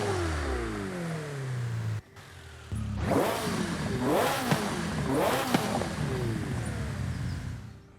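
A Ferrari 488 twin-turbo 3.9-litre V8 in Forza Horizon 5 revs repeatedly after a brief low drone, climbing in sharp surges with clear pitch sweeps at close range.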